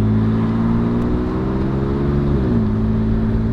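A 1998 Lexus GS300 engine idles through a new exhaust with a deep, throaty note, its pitch dipping slightly partway through, loud and close with no voices.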